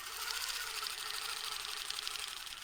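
A longarm quilting machine stitching along a Westalee ruler makes a steady, even mechanical whir with a fast regular pulse, faint and close, running alone throughout.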